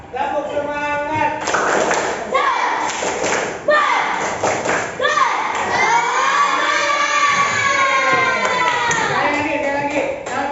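A group of children claps in a rhythmic pattern while chanting together in loud, close unison, with sharp hand-slaps landing between shouted syllables and an adult voice leading.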